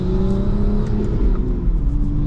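A manual-transmission car pulling away in second gear, its engine humming steadily and rising slightly in pitch as it gains speed, heard from inside the cabin with no talk.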